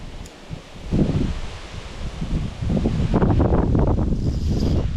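Wind gusting across a riverbank while fishing for chub on the Siret river, a rough blustery rush and rustle that swells and stays loud through most of the stretch, with no talk.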